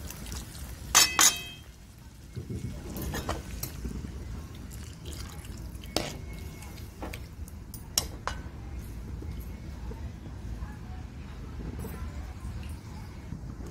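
Water is poured into a spiced masala for a drumstick vegetable curry, giving a sloshing pour with a few clinks of a vessel near the start, then quieter splashing and dripping close by.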